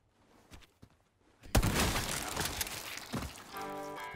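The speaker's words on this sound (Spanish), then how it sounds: "usemos la escopeta como arma de ejemplo y mira lo agresivo y realista que es" A shotgun blasts in Resident Evil 4, a sudden loud broadband boom at mid-clip that rolls into a long, dense reverberating tail with crunchy debris, preceded by a few soft thumps and followed by a sustained ringing tone.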